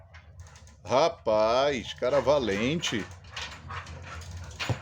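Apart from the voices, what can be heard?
agitated dog whimpering and barking indoors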